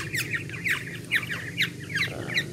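A black-naped oriole's loud, repeated call, five or six sharp whistled phrases at a steady pace, ringing out over a low background hum in a forest.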